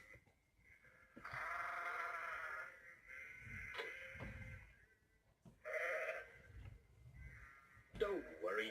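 A flock of sheep driven across a country road bleats repeatedly in several bursts, the calls mixed with narration and other voices.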